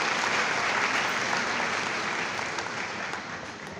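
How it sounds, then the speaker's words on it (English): A room full of people at a university faculty of education workshop applauding, dense and sustained clapping that fades slightly toward the end. "please, another round of applause for him"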